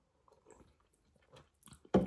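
Crispy food being eaten: a few soft, faint chewing sounds, then one loud, sharp crunching bite close to the mic at the very end, with no talking.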